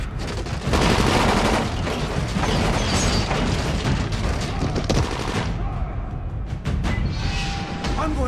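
Gunfire in the zombie video game Dying Light, dense bursts of shots and booms that keep up steadily for most of the stretch, with a voice talking briefly over them.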